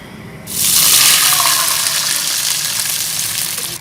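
A loud sudden rush of water, one kilogram, hitting a hot pot of frying mutton biryani ingredients, sizzling and hissing steadily as it keeps pouring.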